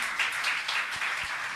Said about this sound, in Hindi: जोरदार तालियां तो बजाइए